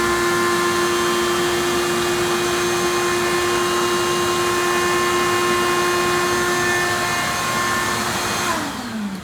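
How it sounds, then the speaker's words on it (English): Central vacuum system in a workshop running loud and steady with a constant high whine and rushing air, then winding down with a falling pitch at the end. "my central vac, turn it on"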